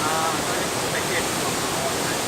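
Kroya Waterfall in Bali, a dense continuous roar of falling water heard close and loud with no pauses.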